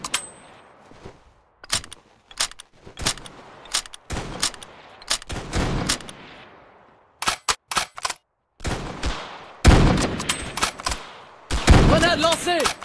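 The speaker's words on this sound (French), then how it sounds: "Attention, je lance une grenade!" Grenade play in Ravenfield, a First World War battle game, heard as scattered sharp gunshots and bangs followed by a heavy, booming blast with a ringing tail near the end, loud and close.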